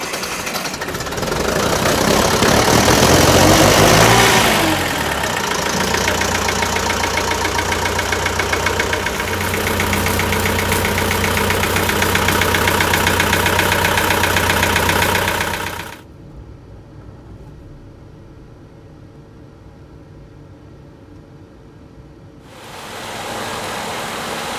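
A Fendt 311 tractor cranks and fires up, revs briefly, then settles into a loud, steady diesel idle that cuts off abruptly and later resumes running.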